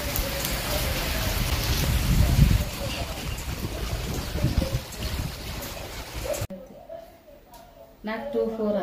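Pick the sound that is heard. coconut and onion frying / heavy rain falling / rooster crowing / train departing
heavy rain falling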